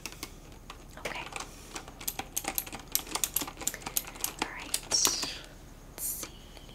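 Computer keyboard typing in a cozy bed and breakfast check-in setting: a fast run of crisp key clicks and taps, close and fairly soft, continuing with irregular rhythm for several seconds.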